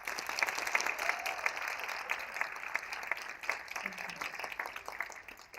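Applause for the storytellers at a live storytelling event rolls through the room, a continuous hiss of many hands clapping with a few sharper individual claps near the front, tapering slightly toward the end.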